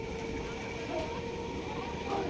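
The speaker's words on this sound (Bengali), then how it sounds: "ট্রেন পেয়ে গেছি, ট্রেনে উঠে পড়লাম" A steady, muffled rumble fills the carriage of an early-morning local train bound for Sealdah, a constant even drone heard from inside.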